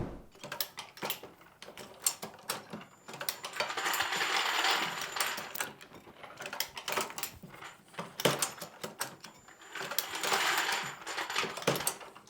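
Dillon bullet feeder on an ammunition reloading press running, a busy clatter of metallic clicks, rattles and dropping parts with two longer whirring stretches, close and moderately loud, no talk.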